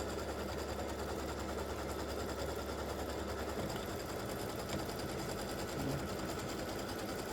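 A sewing machine stitches down batting on a Christmas stocking appliqué, running in a fast, even mechanical whir that continues without pause, close and steady.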